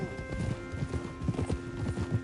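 Horse hooves clip-clopping in a video game, a steady rapid rhythm of hoofbeats close up under a low game background drone.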